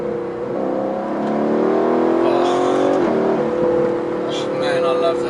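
Car engine revving hard near the microphone, a sustained rising roar with a quick gear shift partway through and the pitch dropping then climbing again.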